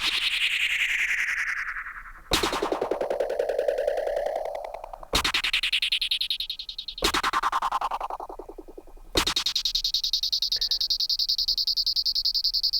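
MPC Air FX delay at very high feedback with its resonant frequency being swept, producing dense repeating echoes that whoosh up and down in pitch, with abrupt bursts restarting the sweep several times, alone.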